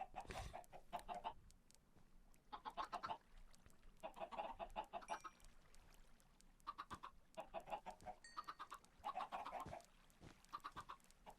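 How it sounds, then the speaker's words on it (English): Chickens in a modded Minecraft world cluck repeatedly in short bursts of rapid, throaty calls, fairly close and clear over a quiet background, with brief pauses between bouts. "Oh, apparently you can just pick up chickens."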